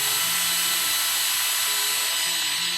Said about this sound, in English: Let's go ahead and drill on this thing.